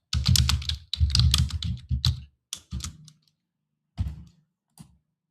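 Computer keyboard typing while modelling a 3D nut in AutoCAD: quick close bursts of key clicks, a dense run followed by scattered separate taps with short pauses between them, and no talk.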